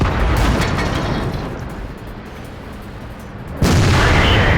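A KV-1S tank's cannon in a tank video game fires a heavy, close boom that fades into a low rumble, and a second loud blast bursts out near the end.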